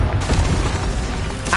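A Confringo blasting curse explodes in the Hogwarts Legacy game, a dense, continuous booming roar filling the whole moment with a brighter burst near the end, with a little voice beneath.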